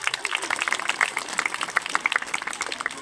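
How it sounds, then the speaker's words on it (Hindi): Scattered hand claps from a small group at a school Children's Day celebration, uneven and lively, filling a few seconds with sharp overlapping slaps. "थोड़ी सी तालियां बजा लें"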